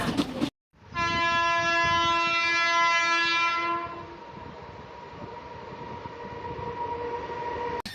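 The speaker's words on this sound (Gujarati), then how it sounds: "આ ટ્રેન જોઈ શકશો તમે એકસો ને અગિયાર વર્ષ જૂની ટ્રેન છે" A 111-year-old narrow gauge train on the Bilimora to Waghai line sounds a long, loud horn blast for about three seconds, then its rumbling run carries on steadily.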